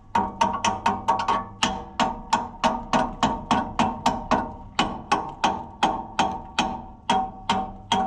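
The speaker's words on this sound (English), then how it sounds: "I need to go get the chipping hammer" Rapid metallic hammer strikes from a chipping hammer on a weld, about three per second, chipping steadily and loudly for several seconds with no talking.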